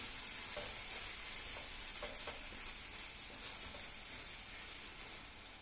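Tomato masala with chili powder sizzles and fries steadily in a pan, with a constant crackling hiss and a few soft stirring scrapes. No one speaks over it.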